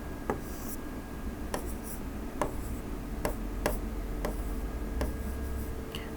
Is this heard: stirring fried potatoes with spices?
no